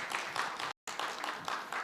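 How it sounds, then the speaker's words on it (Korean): A church congregation at a Bible academy session applauds to welcome a guest: continuous, moderately loud clapping from many hands, broken by a brief cut in the middle. "우리 박수로 한 번 더 환영해 주시면 감사하겠습니다"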